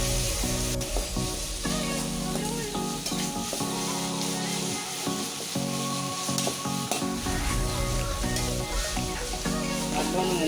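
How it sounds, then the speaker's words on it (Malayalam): Onions fry for biryani with a loud, continuous sizzle, and a spoon stirs and scrapes through them in a steady rhythm at close range. "നമ്മൾ ഉള്ളി മൂപ്പിച്ചിട്ടാണ് നല്ലോണം ഇളക്കി കൊടുക്കുക."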